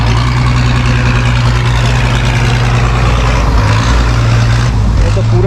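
A boat engine near James Bond Island in Thailand revs hard at full throttle, a loud, continuous low-pitched roar close by with heavy rumble throughout, and people talking over it.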